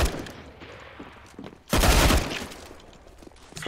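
Counter-Strike gunfire, a sudden loud burst of rapid shots midway through, preceded by quieter game sounds and trailing into softer background noise.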